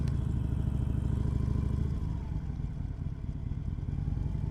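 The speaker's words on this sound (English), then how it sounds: "So now we're back to the Harley Davidson dealership. I'm gonna park this bike right next to my 883." A 2021 Harley-Davidson Sportster 1200 Forty-Eight V-twin rumbles with a deep, steady, pulsing throb while riding, loud and close, easing slightly partway through before holding steady again.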